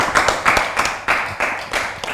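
An audience of children and adults claps in bursts, several short rounds of applause with brief gaps between them, close and fairly loud.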